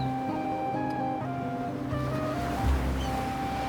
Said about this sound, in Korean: Hay que escuchar las olas.